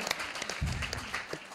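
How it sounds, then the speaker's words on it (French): Audience applause at a book presentation, a brief soft burst of clapping heard faintly at a distance. "Alors on peut l'applaudir."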